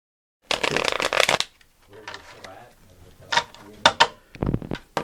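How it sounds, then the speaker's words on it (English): Riffling bursts of a deck of cards being shuffled, a long flurry then several shorter quick ones, close and crisp. "The all-important shuffling of the pit cards has been thoroughly taken care of"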